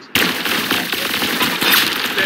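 Rapid automatic gunfire from the Roblox shooter game Arsenal, a dense continuous burst of shots lasting about two seconds, loud and close with no talking over it.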